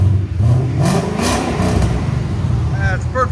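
A 2021 Ford Mustang GT with a 5.0L V8 engine and aftermarket exhaust revs with a deep, steady drone across the whole stretch, loud and close, while people talk over it.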